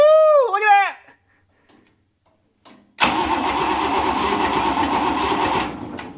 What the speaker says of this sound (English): It fired. It fired on 1 or 2 cylinders.